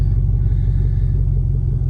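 An old high-mileage pickup truck nearing 300,000 miles, door held shut with a ratchet strap, rumbles at steady idle just after being started, a loud close low engine drone with no talking.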